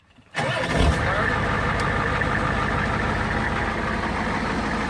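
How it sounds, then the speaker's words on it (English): A vehicle engine starts with the key on a trail outing: a short crank after a quiet moment, then the motor catches and settles into a steady, loud idle. "We're going to turn the key on. We're going to turn my fuel on."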